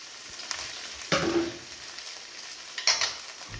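Spoon stirring a coconut mixture in a hot pan, quiet scrapes and faint sizzle with a few louder stirring strokes, no talking.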